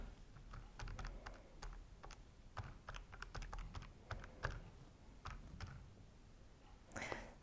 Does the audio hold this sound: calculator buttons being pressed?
yes